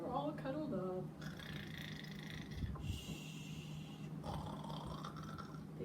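A person imitates loud snoring with rough, nasal snorting breaths, repeated several times in a steady rhythm, up close.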